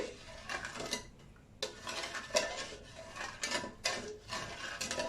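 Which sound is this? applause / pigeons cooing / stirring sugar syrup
stirring sugar syrup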